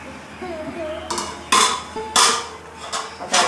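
A metal lid lifted off a cooking pot of mackerel curry with mango and coconut milk gives several sharp clinks and clatters, close and fairly loud, over a quiet kitchen background.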